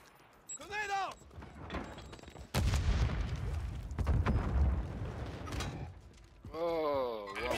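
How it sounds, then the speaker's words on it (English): A grenade explodes in a video game, a loud sudden boom followed by a long rumbling decay, with synthetic voice-like tones sounding before and after it. "Grenade out!"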